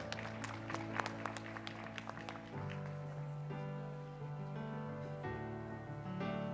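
Audience applause at a university alumni awards ceremony, a few sharp individual claps at first, then a scattered clatter beneath a sustained musical tone, with a faint voice in the background.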